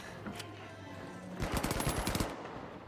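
Bursts of rapid automatic gunfire in The Finals, a quieter shot or two first, then a dense, loud rattling volley fired blind before trailing off.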